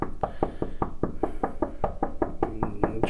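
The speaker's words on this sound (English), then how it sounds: "And here we are knocking again" Someone knocks on an office door in a steady run of about fifteen firm, evenly spaced raps. The knocking is close and carries on with no break.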